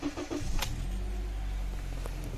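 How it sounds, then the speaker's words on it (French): A Honda Odyssey RB1 with 73,000 km is started up close from under the open hood: a short crank burst, then a steady low idle hums on without any talk. "Alors on va démarrer la voiture."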